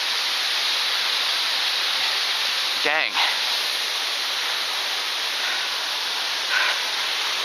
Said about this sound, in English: There's another waterfall underneath me.